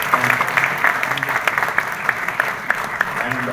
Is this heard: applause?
yes